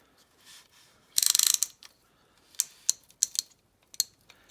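A piston ring compressor is ratcheted tight around a piston for a GM Mercruiser 120hp 153/151 engine: one rapid burst of close ratchet clicks, then several single sharp clicks and turns, with no talking.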